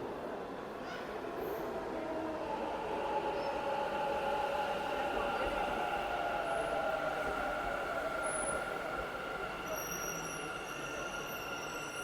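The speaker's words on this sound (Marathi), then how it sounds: "आता ती मेट्रो पकडू आणि जाऊ" A metro train in Bangalore runs with a steady rumble and faint wheel squeal, heard from inside at moderate distance, with no talking.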